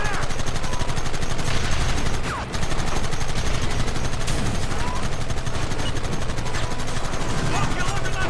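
Dense, continuous gunfire from a Red Dead Redemption battle on PC, rapid machine-gun bursts and rifle shots overlapping into a steady loud barrage with a brief dip midway, mixed with background shouting.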